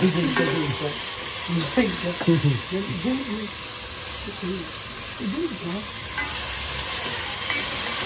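Onion, garlic, tomato and chili sautéing in a pan, a steady sizzle and hiss running throughout while voices talk over it in the foreground.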